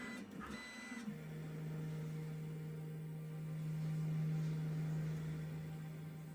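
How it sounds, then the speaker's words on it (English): A 3D printer homes its axes over a piece of foam with a steady, droning stepper-motor whine that swells slightly and then eases. It runs close and alone after a brief mechanical clatter at the start. "So the printer is now homing. This is the homing sequence."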